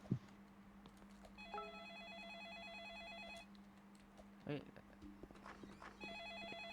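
A Roblox ice cream shop telephone rings in repeated electronic trilling bursts, two long rings separated by a gap, with clicks, footsteps and a brief knock in the game background.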